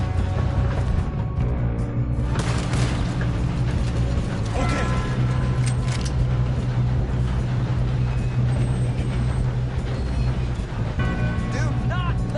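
Train running in Red Dead Redemption 2, a loud continuous rumble of clanking metal, rattling wheels and mechanical grinding, dense and close for the whole stretch, with faint voices in the mix.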